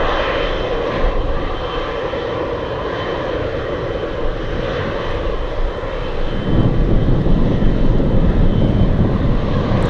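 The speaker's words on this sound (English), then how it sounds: "come on, 777. This will be the last takeoff." A Boeing 777 roars on its takeoff run from runway 15 at Anchorage in gusty winds, a loud continuous jet rumble that swells deeper and heavier partway through, with no talk.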